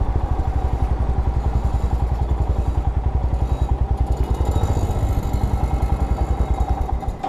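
A motorcycle engine thumps steadily in a fast, even pulse. It is close and loud, idling or riding at low speed around a fuel stop on a road trip from Tenkasi to Munnar.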